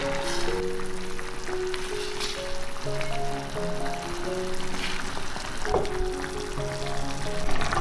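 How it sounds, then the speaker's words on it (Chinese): Cooked tomato sauce, made from tomatoes simmered soft with sugar and water, poured over sea bass, giving a steady wet trickling and sizzling hiss with faint tonal background music throughout. "煮好了之后，淋到鱼上面来。"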